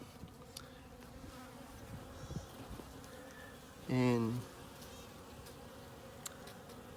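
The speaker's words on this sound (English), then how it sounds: "You always move slow and careful with bees." Honey bees drone faintly at an opened nuc hive in January, a low steady hum with one louder close buzz passing briefly midway, while a voice speaks softly.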